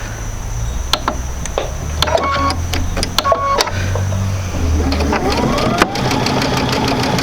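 A sewing machine doing free motion quilting on a basic sampler quilt, its motor whirring loudly and steadily with rapid mechanical needle clatter and occasional sharper clicks, close up and with no talk.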